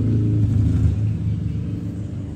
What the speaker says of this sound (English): sorry about the noise there, motorcycle going down the road.